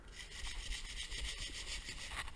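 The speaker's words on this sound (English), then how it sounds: "I'm using 100 grit sandpaper and just a hand sander." Hand sanding of dried drywall joint compound with 100 grit sandpaper on a hand sander, a steady close scratchy rubbing that runs without pause through the whole stretch.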